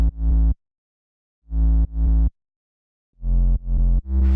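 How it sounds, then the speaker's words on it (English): Deep, gritty future bass sub bass synth notes, slightly distorted, in short sustained bursts separated by silence, loud and buzzy with rich upper harmonics. "Slightly distort your sub for more harmonics."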